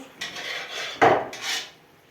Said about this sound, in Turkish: Ben bunu şimdi doğrayıp dolaba atacağım